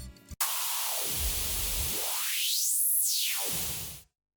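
Hissing synthesized white noise through a low-pass filter whose cutoff is automated, the tone sweeping from dark and muffled up to bright and airy, then back down.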